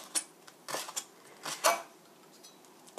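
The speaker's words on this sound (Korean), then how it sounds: "이렇게 반 자르시고 이렇게 채 썰어주세요" Knife slicing halved chili pepper into thin strips on a board for japchae: a few sharp, separate chopping taps with short pauses, close and fairly quiet.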